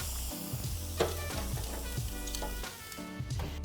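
Thick steak searing with butter on a grill, a steady close sizzle with occasional clinks and scraping of a utensil.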